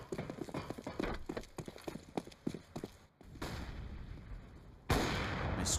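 Gunfire in Counter-Strike on the Nuke map during a G2 versus North esports match at EPICENTER 2017, with a rapid run of sharp shots and footsteps early on, then sustained noisy bursts toward the end.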